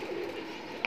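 Pigeons kept in a pigeon loft give a soft, low cooing murmur up close, with a brief sharper chirp near the end; no one speaks over it.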